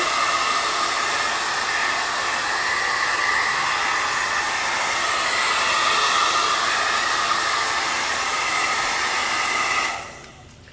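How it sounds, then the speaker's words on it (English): A blow dryer on cool air dries paint on a painted bunny door hanger, blowing as a loud, steady, close rush that runs unbroken for about ten seconds and then cuts off abruptly. "Now, I have my blow dryer down pretty good while I had it on cool air."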